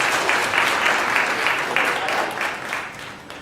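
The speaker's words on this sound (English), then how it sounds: "Can we get a big round of applause for these guys?" Audience applause for helpers after a live science demonstration of making a blood smear, a steady wash of clapping that fades slightly toward the end, with faint talk mixed in.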